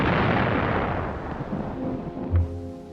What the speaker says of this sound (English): After a heavy artillery bombardment,